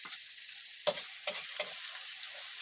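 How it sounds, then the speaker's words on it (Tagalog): Shrimp paste (alamang) fries in a pan with chili stirred in, producing a continuous bright sizzle close by, broken by a few sharp spatula scrapes and knocks. "Lagyan natin ang sili."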